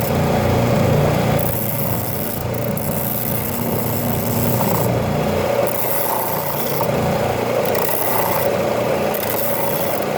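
Sander wheel shaping a wooden gun stock, a steady motor whir with gritty rasping rubbing that swells and eases as the wood is pressed against it.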